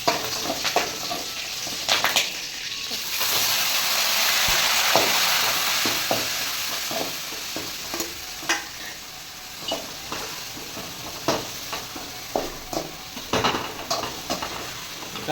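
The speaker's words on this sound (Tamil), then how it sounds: "அதுக்கப்புறம் மிக்சியில் இருக்க வெங்காயத்தை போட்டுக்கலாம்." Ground onion paste frying in a hot kadai for an anchovy fish curry: a steady broad sizzle runs throughout, broken by repeated scraping and clinking stirs of a spoon against the pan, close and clear with no talk.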